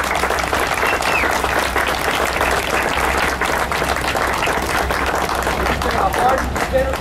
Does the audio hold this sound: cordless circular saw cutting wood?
no